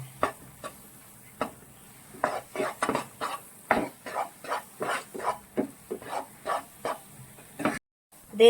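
Tapioca flour halwa being stirred in a non-stick pan, a spatula scraping the pan in a steady run of about fifteen short strokes, fairly close and moderately loud, with no talk over it.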